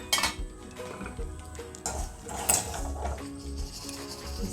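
A metal strainer scoops roasted chana out of a pan, producing a steady clatter and rattling of dry chickpeas against metal with scraping, close and continuous throughout.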